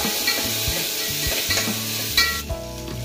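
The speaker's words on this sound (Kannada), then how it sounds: "1 ಈರುಳ್ಳಿ ಕಟ್ ಮಾಡ್ಕೊಂಡಿದ್ದೀನಿ, ಹಾಕೊಂಡ್ಬಿಡೋಣ. ಸ್ವಲ್ಪ ಫ್ರೈ ಮಾಡ್ಕೋಬೇಕು." Chopped onion dropped into hot oil, two spoons' worth, for a mutton dish, frying with a steady broadband sizzle and repeated stirring scrapes and clunks of a spoon against the pan, close and fairly loud, no talking.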